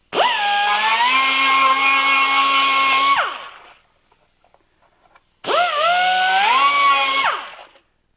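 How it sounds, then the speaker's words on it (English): A small Dremel rotary tool cuts and smooths the plastic edges of a battery box. Two loud, close bursts of high whining spin about three seconds each, separated by a short quiet gap, each winding up and then down. "So I'm just going to use a little Dremel, cut those out, and clean up all the edges with the Dremel"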